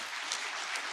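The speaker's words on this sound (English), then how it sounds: "Please, a round of applause for him." A burst of applause fills the room at a university annual lecture, dense clapping from a crowd at a steady, even level.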